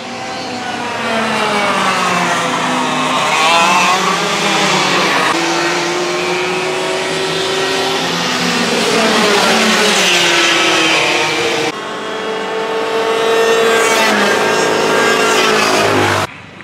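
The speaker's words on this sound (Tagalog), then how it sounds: "Nanonood tayo ng practice session ng mga nag-go-kart." Go-karts racing in a practice session at Carmona Racetrack on a wet track, several high-pitched engines whining loudly and continuously as they rise and fall in pitch through acceleration and passes, close by.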